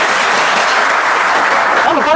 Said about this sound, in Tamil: ஒரு நல்ல கைத்தட்டி அவங்களுக்கான பாராட்டை நம்ம இந்த நேரத்தில் செய்யலாம்